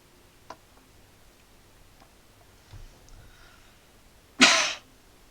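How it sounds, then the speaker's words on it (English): A single short, sharp cough bursts out close by after a few faint ticks in a quiet room. "Apologies for the cough."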